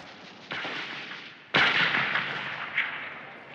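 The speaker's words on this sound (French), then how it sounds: "Orwell fait le coup de feu du côté du POUM" Gunfire from street fighting in Barcelona: two sharp, loud bangs about a second apart, the second heavier with a long rumbling decay, plus a fainter crack near the end.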